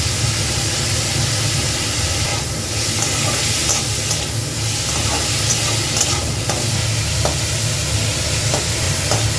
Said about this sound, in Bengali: কিছুক্ষণ এইভাবে ভাজতে হবে চিকেনটাকে